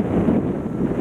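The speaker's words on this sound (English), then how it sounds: "It's really windy." Steady wind buffets the microphone with a dense low rumble, continuous and loud throughout, no voices.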